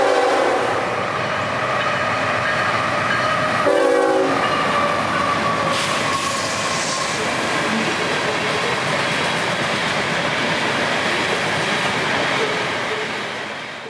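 CSX freight train B241, hauling potash loads, rolls past steadily at speed, its horn sounding clearly for about a second midway, with continuous rail and wheel noise throughout.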